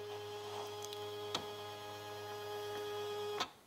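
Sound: embroidery machine with embroidery unit moving down

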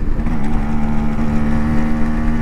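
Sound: Yamaha RX 135 two-stroke motorcycle engine running

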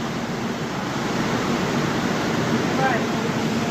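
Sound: heavy rain at a railway station

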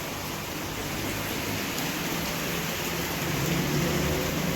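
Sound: rain falling during a village engagement ceremony

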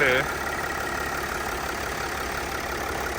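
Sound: Mercedes GL 350 3.0 diesel engine idling

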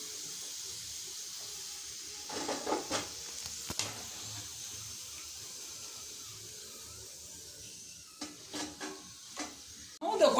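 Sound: kozhakattai (modak) frying in oil

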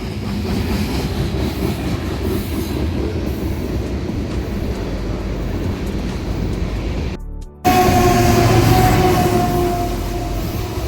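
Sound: freight train passing

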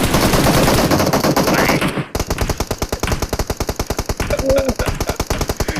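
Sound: gunfire in PUBG Mobile video game

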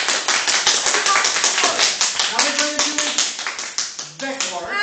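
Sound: group applause

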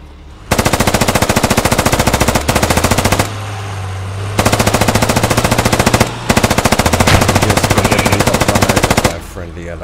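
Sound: gunfire from the video game Squad

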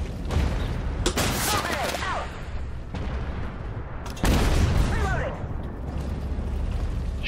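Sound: gunfire in a video game mission

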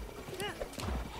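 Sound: horse galloping in video game Zelda Breath of the Wild

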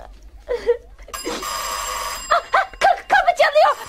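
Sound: doorbell ringing

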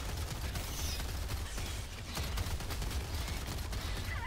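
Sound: gunfire in video game Helldivers 2

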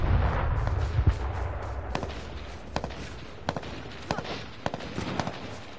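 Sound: AK-47 gunfire in a video game

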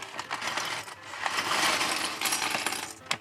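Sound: LEGO pieces poured out onto a table

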